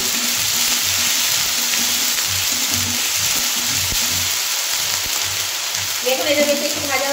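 Tilapia fish frying in hot oil for a spicy jhal with chopped onion, a steady dense sizzle throughout, close and loud, with brief stirring scrapes and clinks toward the end.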